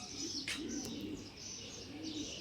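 Racing pigeons coo softly in a loft, with several low rolling coos repeating in a slow rhythm under faint chirps and a brief flutter, fairly quiet and close.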